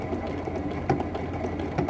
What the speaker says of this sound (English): I'm going to sew back down until my needle just catches this new piece of binding we flapped over.